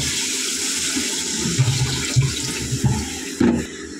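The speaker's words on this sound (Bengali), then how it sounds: "তো এবার আমি জল দিই" Water pours steadily into a pot of fish curry with potatoes, a continuous close splashing rush with a few louder gurgles and clunks toward the end.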